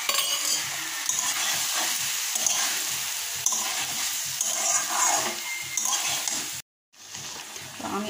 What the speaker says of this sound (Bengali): তো আমি আরও একটু জল দিয়ে আরও 2 মিনিট মতো কষাবো